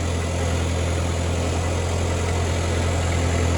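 A Ford 8N tractor engine runs steadily with its PTO engaged, a continuous low, even drone that holds loud and close throughout with no change in pace.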